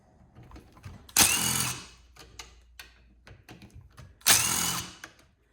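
A ratchet driver backs two Phillips bolts out of a small engine: two loud, close bursts of rapid clicking, each lasting under a second, with faint handling ticks between them.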